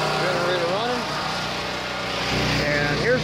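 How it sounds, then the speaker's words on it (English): A portable generator runs at a steady low drone, with a voice briefly heard over the engine hum. "All right, generator running."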